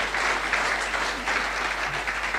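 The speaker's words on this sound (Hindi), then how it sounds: "जोरदार तालियां होनी चाहिए" Steady, enthusiastic applause from an audience at a business team gathering, dense clapping sustained throughout without pause.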